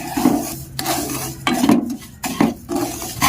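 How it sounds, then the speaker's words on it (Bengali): A spoon drags through a semolina, sugar and salt mixture in a pan. Close, gritty scraping strokes repeat in an uneven rhythm, with clear pauses between them and no talk over them. "তারপরে আমি আবারও 1 মিনিট মতো নাড়াচাড়া করে নিচ্ছি।"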